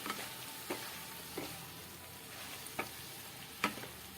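Corn being stirred into palak capsicum rice in a pan, with a soft steady sizzle underneath and a few distinct spoon scrapes spaced about a second apart, fairly quiet and with no talking.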